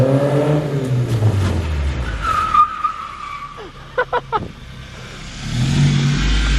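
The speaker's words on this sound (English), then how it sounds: "I went to change gears and I pulled the e-brake." A car skids and slides after its hand brake is yanked mid-drive, tires scrubbing under loud cabin noise, with people talking and exclaiming around a few sharp squeal bursts.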